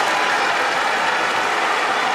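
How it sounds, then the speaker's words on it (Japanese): A sumo crowd roars at Ryogoku Kokugikan after Ura's throw clinches his winning record against Wakanosho, a dense, steady wall of loud cheering and applause that fills the whole stretch. "両国国技館が大歓声に包まれます"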